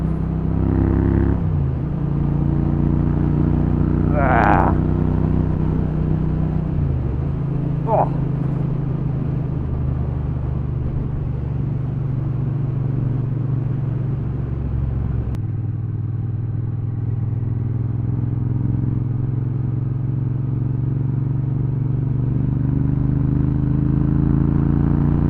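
A Triumph Bobber motorcycle with its cap off and running a bit lean drones steadily while riding over a bumpy road, a loud low engine hum that shifts pitch with gear changes and carries on throughout.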